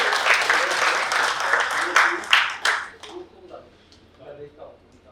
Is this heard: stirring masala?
no